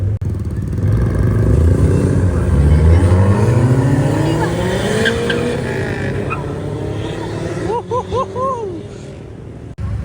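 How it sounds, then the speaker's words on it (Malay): A Proton Wira Turbo car engine revs and drones up and down in pitch, loud and close, with a few short chirping sounds near the end. "kita boleh dengar lah Wira Turbo ni. Kita dengar bunyi syahdu dia"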